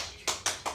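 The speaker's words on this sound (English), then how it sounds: "Clap hands with me." A few sharp hand claps, three distinct slaps spaced roughly evenly, close by and fairly soft, with no talk over them.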